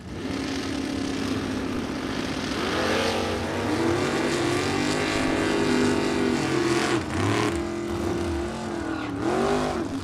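Two bracket drag racing cars launching side by side at a Super Pro event, a loud roaring rise of engines revving and shifting together, pitch sweeping up and dropping as they pull away.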